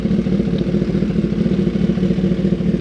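A Gen 6 Kawasaki ZX10R sport bike idles steadily with a flashed tune, its engine thrumming in a loud, continuous, slightly uneven low rumble with faint mechanical clatter throughout.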